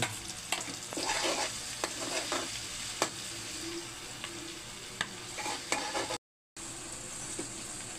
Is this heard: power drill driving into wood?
no